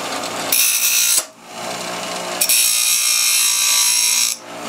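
A grinder's wheel bites into a small piece of aluminum in two long bursts, each a harsh, bright hiss that stops abruptly, with a duller motor whir between them.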